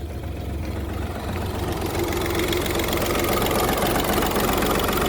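A car engine catches and settles into a steady, rough idle with a low rumbling drone and slight vibration, close by with no voices.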